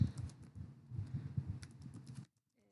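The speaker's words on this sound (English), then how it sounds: "I'm just going to type in some simple sentences" Typing on a computer keyboard while entering simple sentences into a document, a fast, steady run of close key clicks for about two seconds before it stops into silence.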